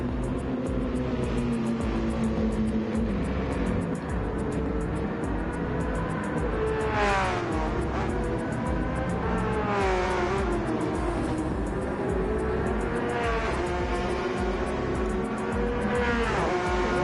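Porsche race cars scream past on track, engines revving high with rising and falling pitch as they accelerate and shift, a continuous loud roar of several cars.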